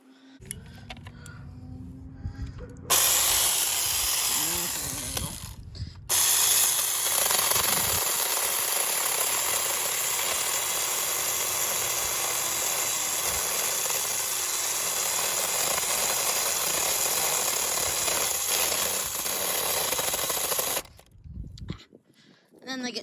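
A mini chainsaw cuts through yard wood with a loud, steady buzzing whine that runs for most of the stretch, briefly stopping early on and cutting out near the end, with faint voices around the pauses.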